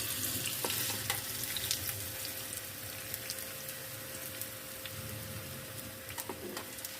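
Potato and carrot pakoras frying in hot oil, a steady close sizzle with scattered crackles and pops, heard alone.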